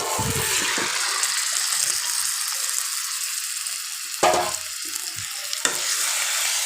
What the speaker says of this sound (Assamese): আৰু এয়া মই দি দিলোঁ মোৰ মাংসখিনি ইয়াতে